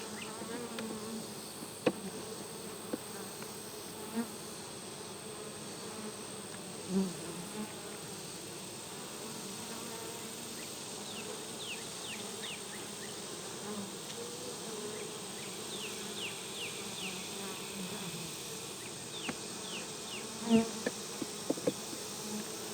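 Bees buzzing around an opened beehive, a steady low droning hum with occasional closer insects passing by and faint handling knocks, heard alone without talk.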